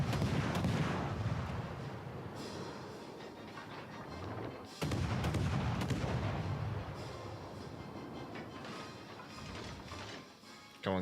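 Warship guns boom in World of Warships: Legends, a heavy continuous barrage of rumbling gunfire with a sharp new salvo near the middle, loud and dense throughout.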